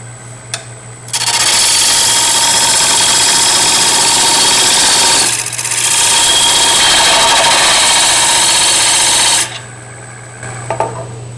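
Wood lathe turning a wig stand as a tenon is formed: a loud, close steady hum with tool-cutting scrape, interrupted by a brief dip midway before resuming, then stopping near the end.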